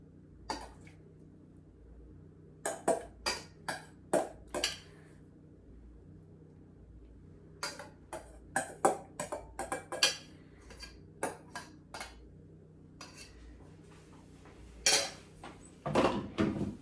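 Spoon scraping and tapping against a baking dish while cheesecake filling is dolloped around a strawberry sopapilla cheesecake; a series of sharp, close clinks in irregular bursts with quiet gaps between.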